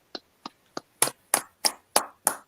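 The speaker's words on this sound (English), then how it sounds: "Clap it up." Eight sharp hand claps at the end of an online class, the first three lighter and spaced, then five louder, fuller ones at a steady, slightly quickening beat, close and alone with no talk.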